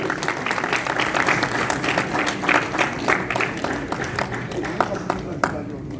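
An audience at a Punjabi literary conference breaks into sustained applause, many hands clapping together in a dense crowd roar, with a voice speaking over it.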